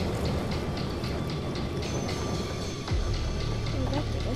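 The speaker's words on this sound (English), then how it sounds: "That's just the railway." A railway train rolls along the tracks in the DOOM Eternal video game, a loud, steady rumble with rhythmic wheel clatter and a brief screech near the end, with no voices.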